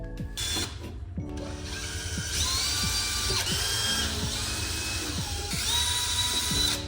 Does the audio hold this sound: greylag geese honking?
no